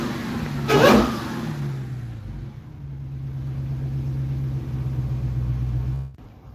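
A car engine with an aftermarket intake is revved hard in one sharp, loud burst, then settles into a deep, throaty idle rumble close by before cutting off.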